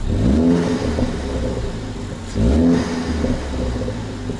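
A Ford Focus ST engine with a new high-flow filter revs up twice in strong, throaty surges with a loud exhaust note, settling back to a rumbling idle between the bursts.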